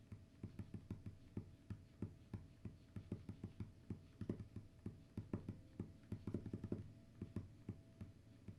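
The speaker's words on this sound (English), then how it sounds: "And now, the OSU touch keypad." Soft, muffled taps on an osu! sensor touch keypad, a quiet stream of dull thumps in quick uneven runs, close but faint, with no talking.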